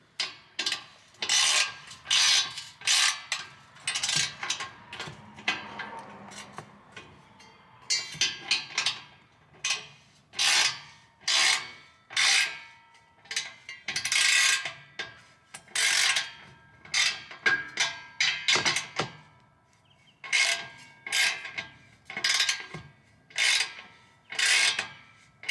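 An exhaust tip is tightened onto a 2021 Dodge Charger Hellcat Redeye with repeated short rasping, ratcheting strokes in an irregular rhythm, close by and fairly quiet, with no talk.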